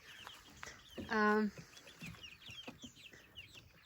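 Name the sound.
chickens clucking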